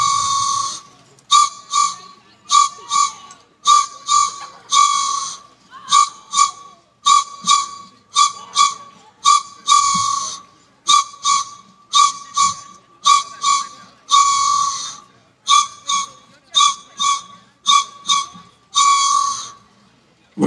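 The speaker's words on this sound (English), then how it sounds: "after I blow the whistle to wake up the human spirit" A shrill whistle blown repeatedly in short and long blasts, loud and close, with brief pauses between bursts.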